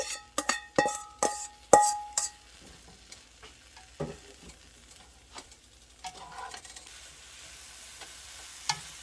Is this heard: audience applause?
no